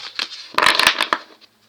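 Playing cards being shuffled by hand in a quiet room, a couple of brisk riffling bursts with soft flutters, the busiest burst in the middle before it fades to near silence.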